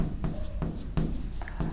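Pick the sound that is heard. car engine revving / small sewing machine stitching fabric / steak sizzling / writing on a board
writing on a board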